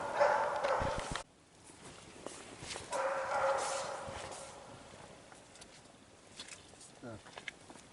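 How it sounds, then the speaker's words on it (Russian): Dogs barking outdoors by an autumn lakeside camp as a person approaches, a couple of short bursts of barking, moderately distant, amid quiet outdoor ambience. "Собаки узнали его."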